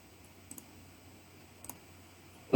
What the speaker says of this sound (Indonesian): Kemudian kita ketikkan komen offset.